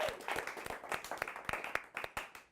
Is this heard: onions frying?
no